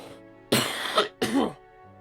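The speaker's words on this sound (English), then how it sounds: "I hope this is the final hurdle of this cough." A person with a lingering cough gives two loud, harsh bursts of coughing and throat clearing, close and separated by a short pause.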